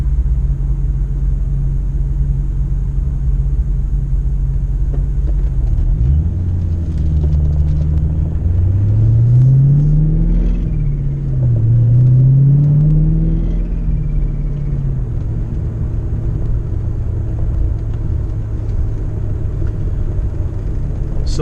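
A Ford Mustang with a manual transmission rumbles steadily while driving, its low engine drone swelling with a couple of throttle rises midway before settling back to a cruise.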